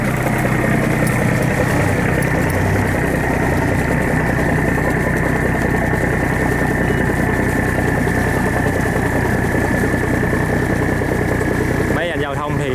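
A large, aging boat or barge engine runs steadily at a river salt-barrier sluice in Kiên Giang, a continuous loud low rumble with broadband churning water, close and unbroken throughout.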